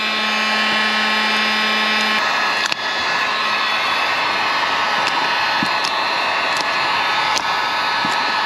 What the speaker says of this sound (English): You put a little bit of heat on the butyl, you can make sure that it's going to adhere to the grommet area really well.